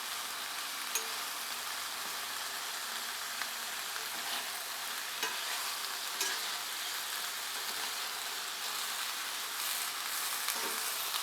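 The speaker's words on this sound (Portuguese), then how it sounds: "Vou deixar dar uma refogada." Free-range chicken sautéing in a very hot iron pan, Goiás-style home cooking, gives a close, steady sizzle with scattered small pops and crackles throughout, with no talking.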